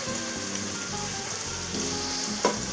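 Clementine caramelized chicken, cooked to a grandmother's Corsican recipe, sizzles steadily in a covered pan with a constant crackling hiss and a single sharper pop near the end.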